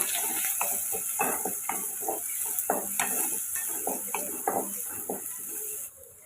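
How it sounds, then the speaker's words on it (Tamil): Shallots, garlic and curry leaves sautéing in hot oil give a steady sizzle and frying crackle, with repeated stirring scrapes against the pan throughout, then stop abruptly near the end. "இப்போ இதை கொஞ்சம் நம்ம எண்ணெயில் வதக்கி விட்டுக்குருவோம்"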